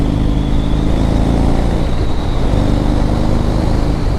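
A 2014 Harley-Davidson Dyna Low Rider's engine runs loud and close, a steady deep rumble holding throughout with a slight dip and swell midway.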